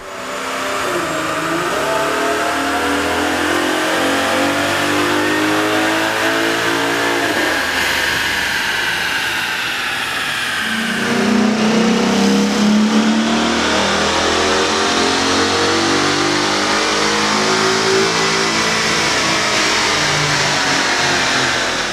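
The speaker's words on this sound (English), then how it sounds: "we ran the vehicle on the dyno to test the sound comparison versus the stock intake" A car engine with a K&N 69-3527TP air intake revs continuously on a dyno, pitch climbing steadily, then a louder surge and a second long rising sweep of intake and engine roar.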